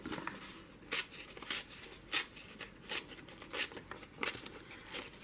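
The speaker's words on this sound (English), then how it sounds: "You rip towards yourself, you get a nice white edge" Paper, including a security envelope, torn by hand into strips for a journaling banner: a string of short, crisp ripping bursts at a fairly even pace, close up and quiet, with small desk noises between the tears.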